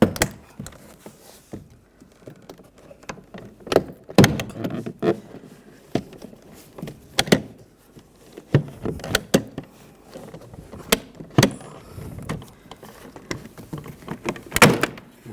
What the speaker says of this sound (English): try to slide the door panel up